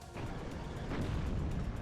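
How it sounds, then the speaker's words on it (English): Heavy D-44 cannon artillery fire in the WARNO strategy game, a dense, continuous low rumble of booming blasts that rolls on without a break and is heard alone. "Now the D-44 cannon's engaging on them."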